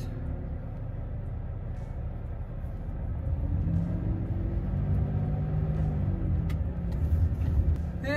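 A heavy truck rolls slowly into a forest, its engine a deep, steady rumble up close that builds gradually in loudness, with faint creaks and brush noises near the end.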